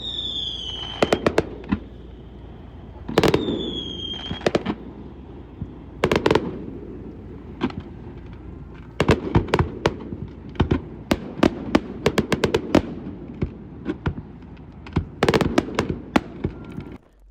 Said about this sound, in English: a massive fireworks display on July 4th that lit up the entire coastline